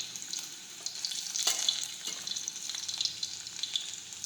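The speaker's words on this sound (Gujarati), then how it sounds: "હવે આપણે તેમાં રાઈ અને જીરું નાખીશું, લસણ નાખીશું, સુકલ મરચી નાખીશું," Mustard seeds, cumin, garlic and dry chilli sizzle and crackle steadily in hot oil, a close, continuous frying hiss with small pops throughout, no voices.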